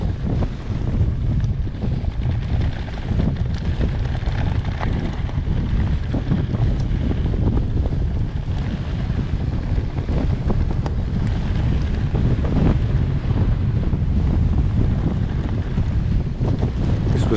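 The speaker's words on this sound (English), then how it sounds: "We were facing a very stiff west-southwest wind, which made going a bit tough." Stiff west-southwest wind buffets a mountain biker riding a Whyte E160 RSX back toward Corfe near Old Harry Rocks, a loud, continuous low roar of wind noise on the microphone throughout.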